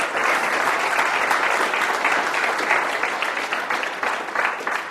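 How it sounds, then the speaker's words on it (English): Audience applause at a live talk or seminar, dense steady clapping from a crowd that holds for several seconds at an even, fairly loud level, with no voices over it. "Give him a round of applause, everybody."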